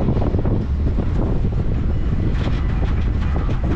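A roller coaster train at Busch Gardens rumbles along its track, a steady rolling roar with wind noise on the microphone and no voices.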